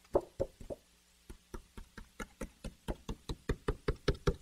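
Fingers tap a thin wooden DW drum shell, giving close, hollow knocks. A few slower taps are followed by a steady, quickening run of about twenty even knocks.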